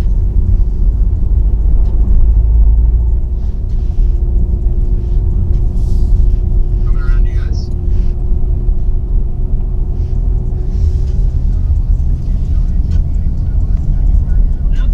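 A car drives along a road for follow shots, giving a continuous low rumble with a faint steady tone, while voices murmur faintly over it for the whole stretch.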